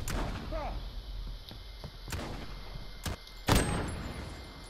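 Gunfire rings out in Call of Duty: Modern Warfare, a handful of loud, spaced bangs with one heavier blast, while players talk over the game audio.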